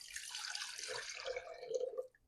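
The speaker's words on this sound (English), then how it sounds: "I'm going to pour my water on in." Warm water is poured into a bowl to prepare yeast for pizza dough, a steady splashing pour that stays close and clear, then drops off sharply at the end.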